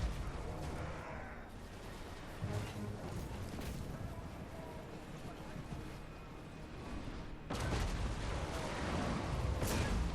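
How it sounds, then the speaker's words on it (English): Cannon artillery fire rumbles through a Total War: Warhammer 3 battle as a dense, continuous wash of booms and distant blasts, with a sharp surge of noise near the end and no clear talking. "Any more cannon shots gonna come over the horizon?"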